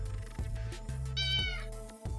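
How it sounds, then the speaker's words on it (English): A cat gives a single short meow as it walks into a room during a tabletop card game, heard at moderate level over a steady low background hum. "And a cat just walked in."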